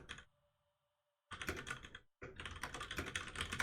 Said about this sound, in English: What do you hit the spacebar with?